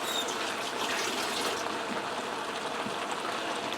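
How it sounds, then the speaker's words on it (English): Hands being rinsed under a running kitchen tap while cooking a Cajun shrimp and sausage skillet with zucchini and squash: a steady, close, continuous rush of water that holds even throughout, with no voices. "Let me give my hands a quick rinse."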